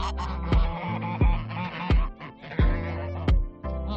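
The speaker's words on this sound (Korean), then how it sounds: "짱이 두부를 계속해서 먹자 다른 거위들이 몰려온다" Geese honk loudly and repeatedly while crowding around tofu, harsh nasal calls overlapping in quick succession from several birds close by.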